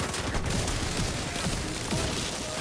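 Gunfire in the video game Tom Clancy's The Division 2 crackles in a quick, fairly faint volley of overlapping shots, with no voices present.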